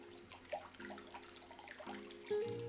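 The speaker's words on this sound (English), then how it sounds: "A fountain soft bubbling adds the musical note." A garden fountain in a shaded Central Texas garden bubbles softly and continuously, with a gentle trickle and small splashes. It sounds quiet and close, with no voices.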